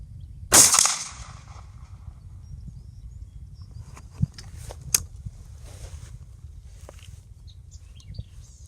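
A shotgun fires a single roll-crimped green slug shell with a clear overshot card, one sharp loud blast near the start followed by quiet outdoor ambience and a few faint clicks.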